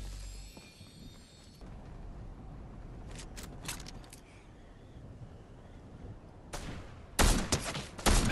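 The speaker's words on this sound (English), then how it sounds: "Are you shooting that person?" Gunfire in the Fortnite video game, with scattered shots through steady background noise and a louder burst of rapid fire near the end.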